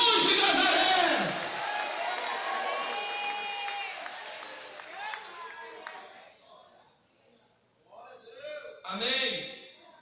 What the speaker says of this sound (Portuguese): Aplaude o nome de Jesus.